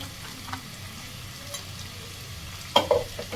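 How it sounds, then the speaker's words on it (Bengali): Burnt spice paste for dried fish with eggplant fries over high heat and is stirred in a pan, producing a low continuous sizzle with a few sharp scraping knocks near the end. "ভালো করে নাড়বো গ্যাসের টেনটাকে জোরে করে দেবো ভালো করে কষে নেব"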